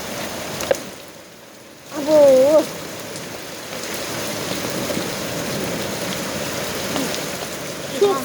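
Heavy rain and hail in Mersin fall as a steady, wide hiss of water drumming on surfaces, with a brief quieter lull before the downpour swells again and keeps going.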